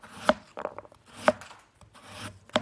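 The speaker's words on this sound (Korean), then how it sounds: "그러니까 조금 두껍게 썰어 주시는 게 좋아요." A knife chops radish into thick, chunky pieces on a cutting board, a few distinct thuds spaced about a second apart with lighter scraping between them, close and fairly quiet, with no voices.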